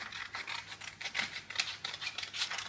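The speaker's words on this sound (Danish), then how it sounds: "Her tager man en saks." Scissors snipping through red paper for a paper-folding craft, a quick series of close, crisp cutting and rubbing strokes repeating steadily with no talk.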